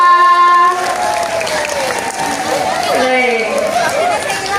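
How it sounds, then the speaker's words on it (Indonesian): A crowd of students and staff claps at a Monday morning school assembly at an Islamic junior high in Bantul, Indonesia. Steady, dense applause follows a voice and continues under a speaker's talk. "Tepuk tangan buat kita semua."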